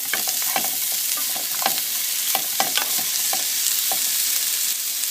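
Garlic frying in oil and stirred with a spoon, a close, loud, continuous sizzle punctuated by quick clicks and scrapes of the spoon against the pan, with no voices.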